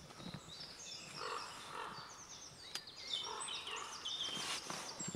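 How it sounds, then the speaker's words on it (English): Crow cawing in ferny woodland, a few scattered harsh calls at moderate distance mixed with other bird calls over a quiet rustling background. "Mr. Crow in the background."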